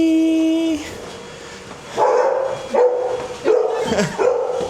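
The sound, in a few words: golden retriever barking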